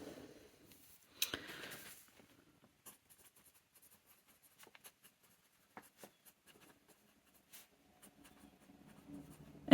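A steel medium-nib fountain pen scratches and glides across paper in short, faint strokes with brief pauses and small taps between them, heard close up in a quiet room.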